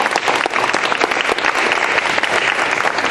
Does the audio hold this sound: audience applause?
yes